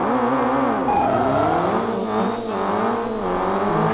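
Racing car engines in the video game Rally Fury roar continuously, revving and shifting pitch up and down, loud and close, with a brief high squeal early on.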